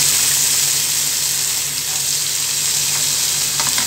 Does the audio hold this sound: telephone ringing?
no